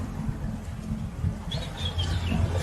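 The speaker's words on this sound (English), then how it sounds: "You can hear the birds chirping." Faint high chirps from small birds flicker over a low, constant rumble of outdoor background noise in Venice.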